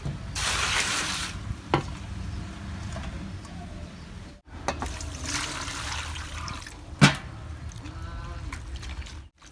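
Pickled mustard greens being washed in water, with close splashing, trickling and sloshing in two long bursts separated by a brief pause, plus a few sharper knocks and splashes.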